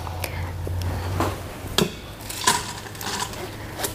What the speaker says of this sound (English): we're going to put it into the pot of the pressure cooker along with a couple of other